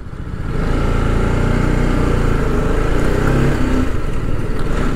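A motorcycle engine runs loud and close at a steady idle-like drone with a faint rhythmic tuk-tuk knocking, steady throughout after a brief rise at the start.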